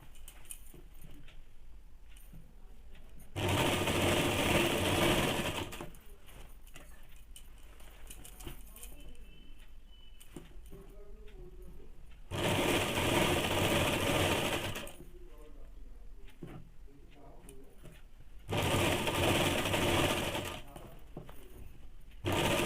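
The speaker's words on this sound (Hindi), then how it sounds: "इस प्रकार से थोड़ा थोड़ा फोल्ड करके पूरे में सिलाई डाल देंगे।" A sewing machine stitches men's underwear fabric in three loud, steady runs of several seconds each, with quieter handling noises and pauses between the bursts.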